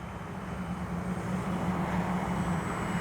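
An X-Fly Spitfire RC warbird flying high on its maiden flight, its model engine a steady, broad droning whir that swells slightly as it passes, heard alone without talk.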